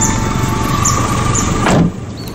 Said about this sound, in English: roll down the driver's side window